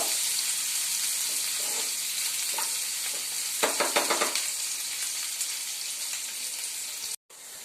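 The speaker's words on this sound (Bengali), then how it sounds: "পেঁয়াজটা আমি হালকা লাল করে ভেজে নেব।" Chopped onion frying in oil in a pan, a steady close sizzle with a burst of stirring scrapes midway, ending in a brief cut.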